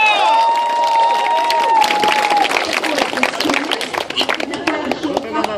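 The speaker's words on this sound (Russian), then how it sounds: "Итак, аплодисменты парню в гавайских шортах." A festival crowd at a poi spinning battle bursts into loud cheering, whistles and shouts over the tail of an announcer's voice, then breaks into dense clapping and scattered yells that carry on to the end.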